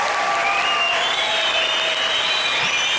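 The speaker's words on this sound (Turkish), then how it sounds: "Ben sizi ayakta alkışlamak istiyorum." A standing ovation from a studio audience on a Turkish television show: dense, continuous applause at a steady loud level throughout, with a faint thin tone running above the crowd's clapping.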